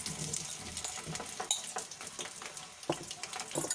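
Chopped capsicum (bell pepper) dropped into hot oil in a kadhai, giving a steady crackling sizzle with scattered sharp pops and stirring scrapes throughout.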